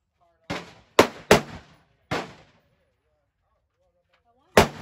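Five sharp gunshots ring out at an outdoor shooting range, four in fairly quick succession and one after a pause, each loud and close with a short decaying echo.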